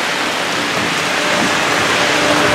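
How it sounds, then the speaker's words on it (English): Steady rain falling, a dense continuous hiss of drops on a surface, fairly loud and even throughout with no voices. "Got a little rain going."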